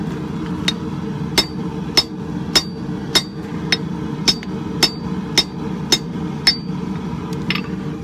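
Steel being forged and cut down to trim off excess stock rings out under a blacksmith's hammer, roughly a dozen evenly spaced sharp metallic strikes over a low steady background hum.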